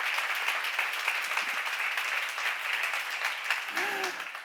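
Dense church seminar audience applause, steady clapping from many hands throughout, with a brief voice sounding near the end.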